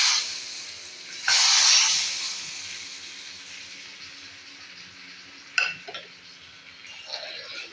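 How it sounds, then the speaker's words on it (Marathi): Hot tempering is poured onto raw mango curry with jaggery, salt and gram flour, giving one sudden loud sizzling hiss that fades over a few seconds, followed by a light clink and faint crackles. "ते ही फोडणी याच्यावर घालून घ्यायची आहे"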